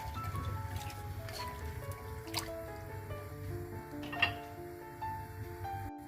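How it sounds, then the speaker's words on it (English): Mutton being stirred with water and salt in a pressure cooker, giving soft wet sloshing and squishing with a few small clinks, moderately close, with no talk. "Stir it well."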